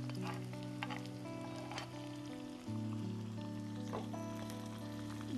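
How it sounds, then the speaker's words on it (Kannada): Chopped onions frying in a pan with chillies for bitter gourd palya, a soft continuous sizzle with light crackles under steady tonal background hum. "ಕಟ್ ಮಾಡಿಟ್ಕೊಂಡಂತಹ ಈರುಳ್ಳಿಯನ್ನು ಸೇರಿಸ್ತಾ ಇದ್ದೀನಿ."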